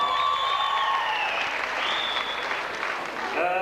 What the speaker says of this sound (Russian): я хочу, чтобы вы аплодисментами поблагодарили «Радио Алмаз»